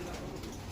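Pigeons coo softly in a loft, a brief steady murmur of low calls with no talk over it.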